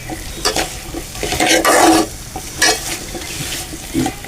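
Cauliflower sizzles loudly as it is stir-fried, a spatula repeatedly scraping and tossing it through the pan, with no talking.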